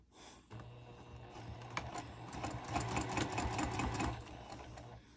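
A sewing machine runs steadily on a quarter-inch seam of a double pocket wristlet clutch, its fast even stitching whir close and alone for several seconds.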